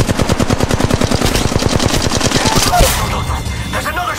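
Automatic weapon fire in the video game Apex Legends Mobile, a rapid loud burst of evenly spaced shots for nearly three seconds, then fading into quieter game sounds.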